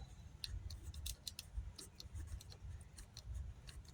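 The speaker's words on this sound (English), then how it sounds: "use a pair of scissors to cut out a notch" Scissors snip a notch into a foam furry head base, giving a series of small, crisp, close cuts in an irregular rhythm over a low background hum.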